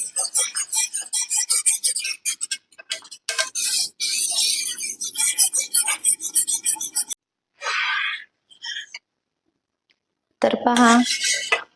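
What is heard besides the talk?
stirring fruit custard in a pot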